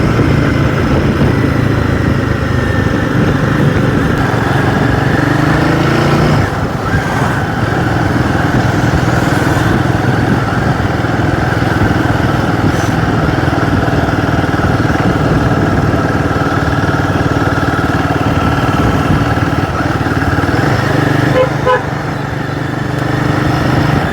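A Royal Enfield Guerrilla 450 motorcycle hums steadily while being ridden, its single-cylinder engine loud and close throughout with a constant droning tone, slight throttle shifts and wind rush.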